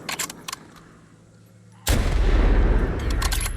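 Gunfire from The Last of Us Part II, a headshot on an enemy: a few faint clicks and small pops, then one sudden loud blast that rolls into a sustained heavy boom and rumble.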